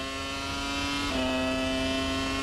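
Formula 1 race cars, Ferrari and McLaren, scream past at the 1998 Spanish Grand Prix with a steady high-pitched engine whine that dips in pitch as one car passes, heard at a distance under a broadcast feed.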